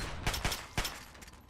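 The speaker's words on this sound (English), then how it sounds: "Oh yeah, that's a combat shotgun." Combat shotgun fired in Fallout 3: three sharp blasts in quick succession, then a few fainter shots trailing off, no talk.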